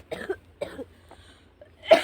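A few dry coughs in quick succession, close and moderately loud, followed by a harsher burst at the end.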